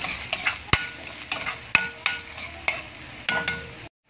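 Garlic and ginger sauté in a pan for sour miso broth with fried milkfish, giving a soft steady sizzle under rhythmic stirring, with a utensil scraping and tapping the pan about every half second before stopping abruptly.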